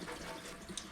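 Running water rinsing the slimy plastic backing off a hydro-dipped part, a faint, steady splashing flow throughout with a small clink near the end.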